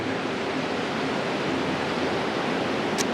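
An icy cold river rushes in a dense, steady wash of flowing water, loud and close throughout with no voices.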